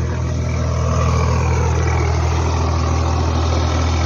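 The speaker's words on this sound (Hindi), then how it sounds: "वो ट्रैक्टर चला रहे हैं रोली चाचू, रोटावेटर चला रहे हैं खेत में" Tractor pulling a rotavator through a waterlogged paddy field, a steady loud diesel engine drone with a deep low hum and constant churning noise, heard close and without talk.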